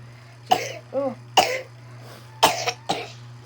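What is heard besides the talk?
coughing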